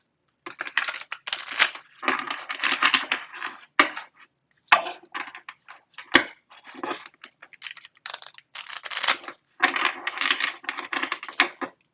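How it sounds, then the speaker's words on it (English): Tarot cards are shuffled in repeated bursts of crisp riffling and slapping, close up, with short pauses between rounds. "let's go ahead and shuffle these cards for you"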